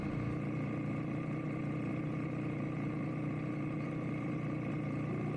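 A Triumph Speed Triple RS motorcycle engine idles steadily nearby, a constant low, even hum and drone with no revving and no talking.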